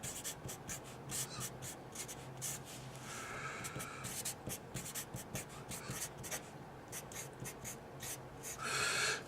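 Pen or marker scratching out a math equation on a surface, soft rapid strokes and rubbing in quick bursts, faint and close, with no talk.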